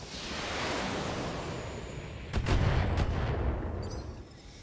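A mech in a video game launches missiles, a sudden rushing burst with a couple of sharp cracks over a constant loud rumbling background.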